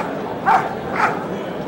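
Police dog during KNPV training in 1997, giving two short barks about half a second apart, moderately close against a quiet outdoor background.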